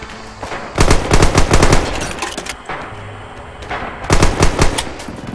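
Machine gun fire in the World War II shooter game Red Orchestra 2: rapid bursts of loud, close automatic shots, separated by brief quieter gaps, with more distant gunfire underneath.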